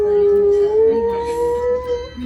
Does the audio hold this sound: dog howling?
yes